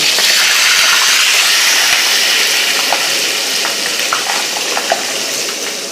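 Four frozen Portuguese salt cod fritters fry in hot oil, a loud, steady, close-up sizzle and crackle with scattered pops throughout, no one speaking over it.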